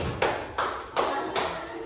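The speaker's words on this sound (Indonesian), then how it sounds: "tepuk 1 kali, tepuk 2 kali, tepuk 3 kali, tepuk 4 kali" A group of schoolchildren clap together in four sharp, evenly spaced unison claps, close and loud.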